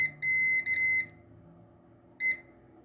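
Multimeter in continuity mode beeping across the contacts of a three-pin relay: two steady electronic tones in quick succession, then a pause and a short third beep, close and clear over a faint low hum.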